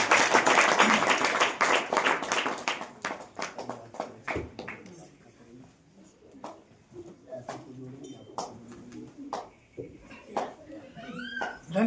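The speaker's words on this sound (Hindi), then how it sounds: "ताली बजाकर" A congregation at a Christian prayer meeting claps together, dense at first and then thinning into scattered individual claps, with talking in between.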